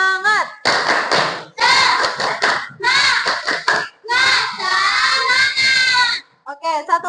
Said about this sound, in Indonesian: kita tepuk semangat dulu yuk